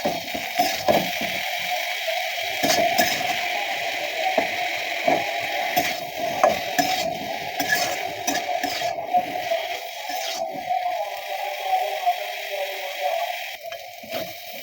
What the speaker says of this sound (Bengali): কড়াই গরম করে তাতে তেল দিয়ে আমি এখন কাঁঠালগুলো ভেজে নিচ্ছি হালকা লবণ দিয়ে।